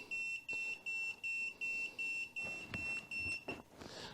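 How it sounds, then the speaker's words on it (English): A ThermoPro TempSpike II smartphone app sounds its low-temperature alert, a run of about eight evenly spaced high electronic beeps, close and clear, breaking off near the end with some handling noise. "I'm at my low temperature there, so I'm getting an alert on that particular alarm"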